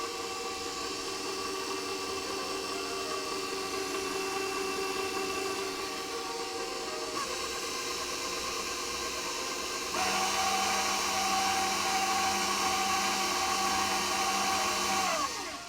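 An electric mixer beating vegan oatmeal cookie batter, a steady motor whine with a constant hum that shifts to a slightly louder, harsher pitch partway through, close and continuous with no speech.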